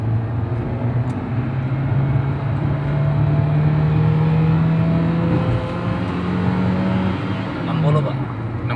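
Engine of a 2006 Toyota Avanza revving as it climbs a steep hill, a loud sustained drone rising steadily in pitch through the gear, then dropping near the end.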